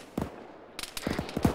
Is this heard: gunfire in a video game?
yes